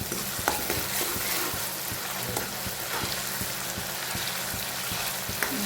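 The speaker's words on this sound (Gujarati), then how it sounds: "ડુંગળીને થોડી ગુલાબી જેવી થવા દઈએ." Onions fry in groundnut oil for pav bhaji, a steady crackling sizzle with soft stirring clicks, moderately close and with no talking.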